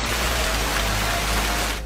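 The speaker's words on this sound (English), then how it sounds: "The system produced funnel clouds and dumped rain and hail." Steady, dense hiss of heavy rain from a storm with hail over Washington, D.C., a constant broadband wash with no distinct impacts or voices throughout.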